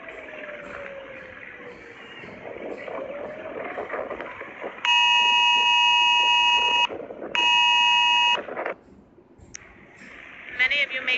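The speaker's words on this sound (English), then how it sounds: "What might have sounded like an Amber Alert, that is a public safety warning about the 8 p.m. curfew" Two loud sustained bursts of a phone public safety alert tone warning of an 8 p.m. curfew, sounding during a street protest, cut through crowd noise and voices; a brief beeping follows near the end.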